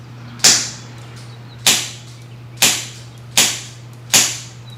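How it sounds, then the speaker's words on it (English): Five evenly spaced sharp shots from an unsuppressed SSX-23, an MK23 clone pistol, each a loud crack with a short decaying tail, heard alone over a faint steady hum. "SSX-23. Unsuppressed. Couple shots."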